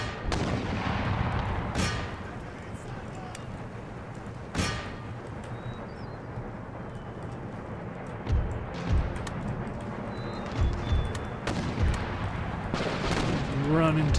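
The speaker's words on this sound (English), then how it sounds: "And deadly bombardment." Artillery bombardment in the Napoleonic-era strategy game Empire Total War: repeated deep cannon booms, some sharp and others rolling, spread over a rumbling battlefield din, with a voice talking faintly underneath.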